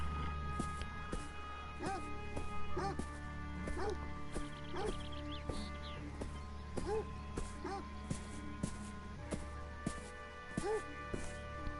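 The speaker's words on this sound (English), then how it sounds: "It's maybe just a wee dog." A small dog in the game Beyond Eyes gives a series of short yapping barks spread across the stretch, mid-distance, layered over soft game music and background ambience.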